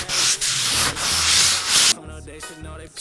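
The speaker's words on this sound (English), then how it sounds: "we've got some 220 grit sandpaper here. I'm certain that this is not proper form, but I'm just trying to get this thing sanded up" Wood is sanded by hand with 220 grit sandpaper, giving loud close rasping strokes in back-and-forth rhythm, a few long sweeps followed by shorter quicker rubs, with no talk.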